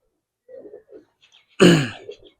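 Tournament racing pigeons in a loft: a few soft, low coos up close, then a louder, fuller call that fades out.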